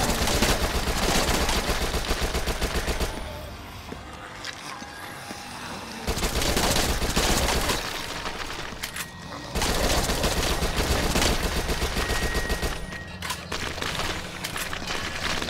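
SMG fire in the zombie shooter Dead Nation: Apocalypse Edition on PS4, long rapid bursts of crackling automatic shots that stop and restart in several loud stretches with brief quieter gaps, plus scattered impacts and booms.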